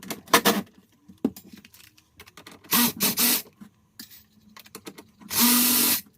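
A power tool, likely an impact driver or drill, loosens the three bolts of a Sea-Doo RXT-X 300 jet ski's IBR support bracket in several close, loud bursts, with metallic clinks and handling noises between them.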